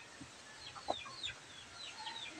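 A native Cantonese breed chicken, plump with thick feathers, gives a few soft clucks amid faint background bird chirps, fairly quiet and a little distant outdoors.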